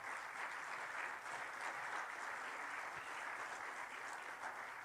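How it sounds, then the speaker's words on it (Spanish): A church congregation applauding during a Spanish-language sermon, faint, distant and steady clapping that continues evenly throughout. "Denle un aplauso al Señor Jesús."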